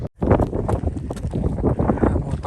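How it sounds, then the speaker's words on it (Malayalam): Strong gusting wind buffets the microphone on the Slieve League cliffs, a loud continuous rushing roar broken by a brief dropout at the start. "വീണ്ടും ഇപ്പം കാറ്റ് തുടങ്ങി"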